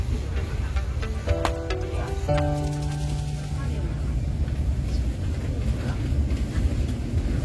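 The Sri Tanjung passenger train rolls toward Surabaya Kota station with a constant low rumble, and a brief layered horn-like tone rises early before the steady running noise carries on alone.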